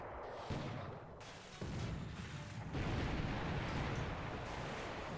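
Naval gunfire in a nighttime surface battle between warships in Gary Grigsby's War in the Pacific, heavy rumbling booms and bursts layered in a continuous roar that steps louder twice, with no voices.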